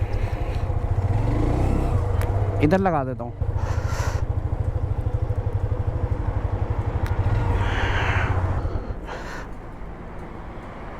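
A parked motorcycle's engine idles with a steady low rumble for most of the stretch, then cuts out near the end, while someone talks close by.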